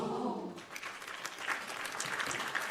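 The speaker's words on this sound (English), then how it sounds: "Round of applause for everybody." A live audience gives a round of applause at the start of a podcast show, a steady wash of many hands clapping that continues throughout, with a voice briefly heard at the start.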